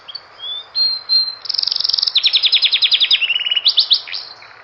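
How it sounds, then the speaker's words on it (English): Nightingale singing in a forest, a bright, close song of whistled notes and fast repeated trills rising and falling in quick bursts over a quiet background. "They take the nightingale to the Emperor, and it sings for him."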